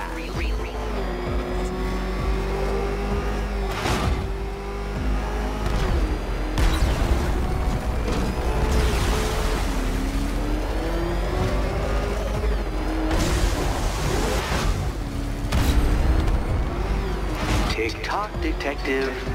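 Batmobile engine in Batman: Arkham Knight revving and roaring in repeated bursts, with tire screeches, thumps and mechanical clatter, loud and close under a man's spoken lines.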